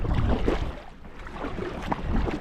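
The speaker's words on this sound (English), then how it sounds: "Let's get paddling." Paddle strokes and water splashing from a packraft on coastal sea water near salt marshes, a few soft rhythmic sloshes over steady wind and water noise, close and moderately loud.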